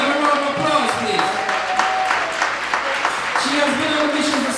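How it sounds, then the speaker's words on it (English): Audience applause at a JAHJAH Foundation honorees event, steady indoor clapping of moderate loudness over about five seconds, with voices and tonal sounds mixed over it. "Give her a round of applause, please."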